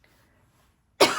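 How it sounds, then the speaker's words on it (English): After near silence, a single short, loud cough-like throat clearing bursts out up close from someone speaking, with no words around it. "you see I had to clear my throat"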